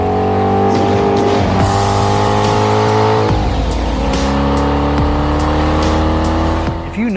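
A Saleen S7 supercar roars loudly and continuously up close, its engine drone shifting pitch as it revs, with squealing tires and skidding layered over the engine noise and no talking.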